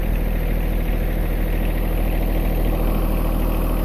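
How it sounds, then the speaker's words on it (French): A tractor engine idles steadily at close range, a continuous low rumble with a mechanical hum and vibration holding even throughout, with no talk over it. "on va aller mettre le tracteur ici pour le moment"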